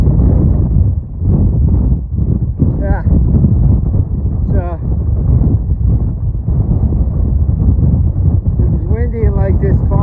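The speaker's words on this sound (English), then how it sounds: "It's windy, blowing us sideways." Heavy wind on a mountain ridge on the Appalachian Trail buffets the microphone with a constant low roar and gusty rumble, while a voice briefly speaks and faint tonal sounds come through.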